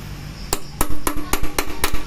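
Hammer striking a pointed punch during a Kawasaki HDIII motorcycle overhaul, six sharp metallic taps at a steady, slightly quickening pace, close and loud over faint workshop background.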